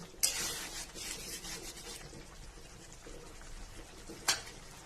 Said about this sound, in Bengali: এরপরে আবার একটু ঢাকনা তুলে নেড়ে নিচ্ছি